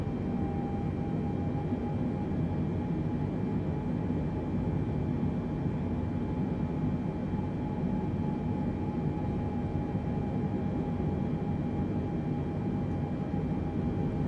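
Steady aircraft engine drone from a light general-aviation plane in Microsoft Flight Simulator as the throttles are advanced for a climb, a constant loud hum with a faint tonal whine, no voices.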